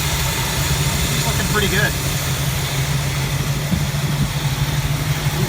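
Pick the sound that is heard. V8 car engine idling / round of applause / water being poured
V8 car engine idling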